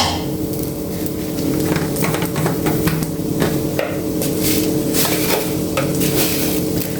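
Coconut oil sizzles in a pan while a utensil scrapes and taps the metal repeatedly, a busy close-up kitchen sound with no talking.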